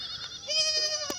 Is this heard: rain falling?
no